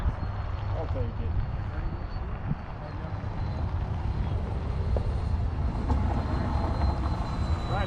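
A model airplane from Virginia Air Screws making passes in choppy wind, a steady engine drone with rushing wind noise throughout, while people talk over it.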